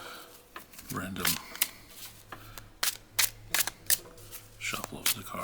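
Tarot cards are shuffled by hand in short riffling bursts and light taps, close and fairly quiet, with a soft voice between the shuffles.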